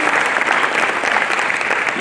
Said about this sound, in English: So can we give South 32 a nice round of applause?